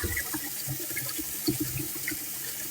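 A faucet runs steadily into a sink as water splashes during face washing, a continuous close rush with small irregular spatters.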